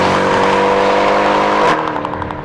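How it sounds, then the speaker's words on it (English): A Mercedes C63 engine revs loud and high, then its pitch drops sharply on an upshift and the note settles lower with a crackling burble. "the sound it makes on upshifts is just fantastic"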